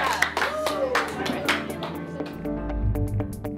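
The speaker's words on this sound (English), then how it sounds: "Everybody clap for Kalia and Jennifer and yourself." A group claps together for Kalia and Jennifer, a scatter of crisp hand claps over steady background music and faint voices, fading out toward the end.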